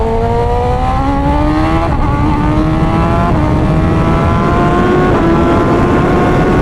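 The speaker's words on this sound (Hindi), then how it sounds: "मैं आपको दिखाता हूँ कितने कम टाइम में हाई स्पीड जाती है" BMW S1000RR superbike accelerating hard to high speed, a loud close engine whine climbing steadily in pitch through several gear changes with brief dips, steady wind noise underneath, no talking.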